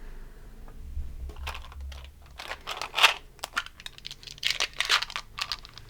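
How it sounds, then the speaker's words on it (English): Nine Adventure Time dice rolled together, giving a scatter of sharp clicking clatters that bunch into quick bursts around the middle and end, close and fairly clear with no talking. "Okay, we're rolling the 8th set of dice."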